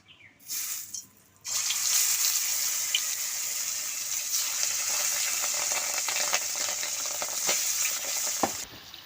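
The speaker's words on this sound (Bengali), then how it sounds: "তেলটা গরম হয়ে গেছে আমি তেলের মধ্যে দিয়ে দিচ্ছি মাছ" Pangas fish dropped into hot mustard oil in a wok, bursting into a loud, steady sizzle after a brief quiet start, with crackling spatters continuing throughout.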